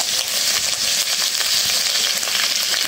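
Fish sizzling as it fries in oil, a steady, dense crackle and hiss that stays close and even throughout, with no voices over it.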